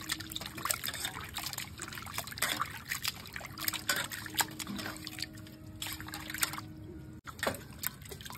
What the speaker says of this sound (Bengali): ওই যে মাছগুলো কেটে নিয়েছি ভালোভাবে, এবার ধুয়ে নিচ্ছি।